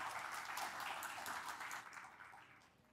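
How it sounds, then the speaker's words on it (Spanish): A conference audience applauding to welcome a speaker, a dense patter of clapping from many hands, moderately distant, steady and then tapering off toward the end. "Aplauso"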